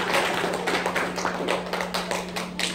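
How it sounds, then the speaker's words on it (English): A church congregation clapping hands for God, dense steady applause with a loose tapping rhythm filling the space, loud and continuous over a low steady hum, without spoken words. "And clap your hands for God."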